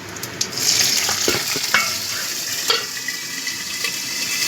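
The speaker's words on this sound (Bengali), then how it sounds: "কাঁচা লঙ্কাগুলো একটু ভেজে নেব।" Slit green chillies fry in oil tempered with whole cumin, crackling loudly and sputtering up close, with a few sharp pops and a clatter early on.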